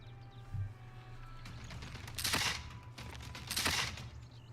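Cannon fire in Civilization VI, two sharp booming blasts about a second apart over a low steady game ambience, with a faint earlier thud.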